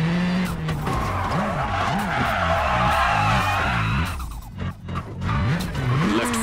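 Tires squeal and skid under hard braking for a hairpin in the rally game WRC2 at Monte Carlo, a loud sustained screech over a revving, shifting rally engine that dips briefly before climbing again.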